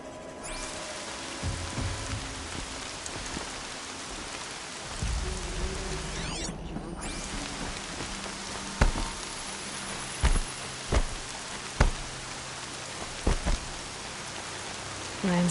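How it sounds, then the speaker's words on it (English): Steady rain falling in the video game Horizon Zero Dawn, a dense hiss of drops on surfaces that carries through the whole stretch, with a few louder, sharper knocks or impacts near the end. "Land's thirsty for rain."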